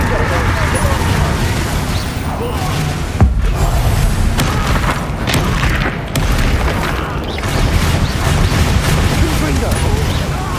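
Confringo fire spell explosions from the Hogwarts Legacy video game, a dense roaring boom with one sharp blast partway through, running under game voices and battle noise.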